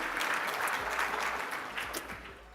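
A conference audience at an investing talk claps steadily for a couple of seconds, a dense wash of hand claps that slowly fades, with no talk over it.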